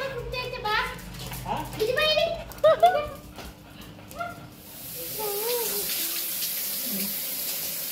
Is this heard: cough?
no